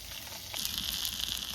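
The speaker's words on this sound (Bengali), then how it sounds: "মাছ সুন্দর ভেজে নিয়েছি। এবার কিন্তু তুলে নেবো, কারণ একটা একটা করে ভাজছি।" Pabda fish frying in very hot oil makes a close, steady hiss that swells into a brighter, louder sizzle partway through and then holds.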